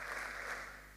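A conference audience at a medical symposium in Rwanda claps on cue, a dense, steady wash of many hands lasting about a second with no talk over it.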